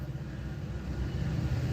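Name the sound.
Metrolink train passing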